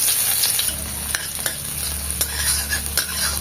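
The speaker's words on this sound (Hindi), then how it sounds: "तो एठी फर्स्ट हमें प्याज पकै नबा" Onions frying in a pan, a loud, steady close sizzle with a low hum beneath and repeated sharp ticks of stirring.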